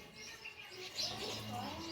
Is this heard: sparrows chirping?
yes